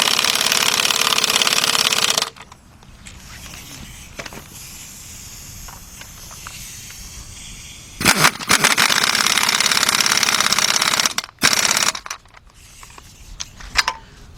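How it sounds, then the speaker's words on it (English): Air impact gun on a 2010 Honda Accord 2.4 tightening a front strut bolt, loud rattling bursts near 0–2 s, 8–10.5 s and 11.5–12 s, with quieter workshop noise in the gaps. "Grab your air gun or cordless gun."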